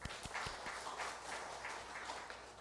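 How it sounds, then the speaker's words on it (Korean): Church congregation clapping to celebrate members' birthdays during a Sunday service, a faint, steady patter of many hands that fills the room evenly. "함께 박수하겠습니다"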